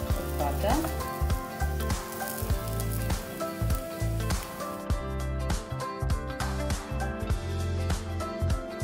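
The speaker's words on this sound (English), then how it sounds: "Let's add some butter on top also so that it toasts." A veg burrito toasts in butter in a hot pan with a steady sizzle, partly buried under loud background music.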